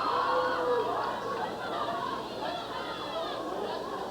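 Crowd at a wrestling arena murmurs and chatters in a steady, broad wash of many distant voices, with no single cheer standing out.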